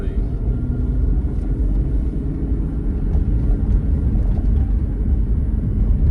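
A 2003 Volkswagen Eurovan VR6 with a five-speed manual conversion drives through a residential neighborhood, its steady low engine and road rumble continuous and close from start to finish.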